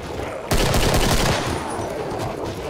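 Gunfire in the Killing Floor video game erupts suddenly and loudly, a dense burst of rapid shots that sustains for about two seconds before easing slightly, with no talk over it.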